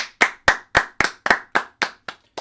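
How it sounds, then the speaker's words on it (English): A single pair of hands claps about nine times in an even, slow rhythm, each crisp smack close and distinct, the last ones slightly softer. "So round of applause for Jose Ramirez."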